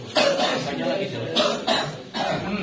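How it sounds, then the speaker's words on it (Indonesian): A few rough, close coughs break out in quick succession amid a wayang golek puppet performance, each a short harsh burst with brief pauses between. "Apa batukan itu?"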